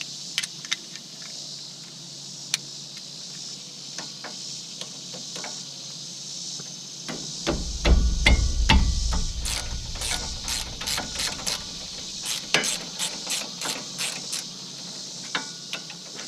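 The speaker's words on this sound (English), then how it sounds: "Hand tools, never leave home without them." Hand tools work on a wheel bearing during disassembly. Scattered metallic clicks and ticks lead into a low thud, followed by a run of rapid ratcheting clicks, close and moderately loud.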